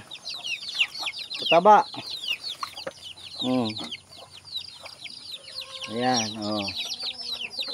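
Plump chickens of various colourful breeds cluck and chatter nearby in a farmyard, with sparse calls and louder squawking bursts, while someone speaks briefly over them.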